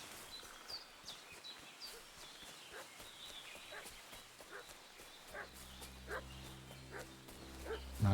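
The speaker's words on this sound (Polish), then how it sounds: "What's that dog making such a fuss about?" A dog barks repeatedly in Kingdom Come: Deliverance II, scattered yaps at moderate distance over an ambient village soundscape with birds, and a low humming tone entering toward the end.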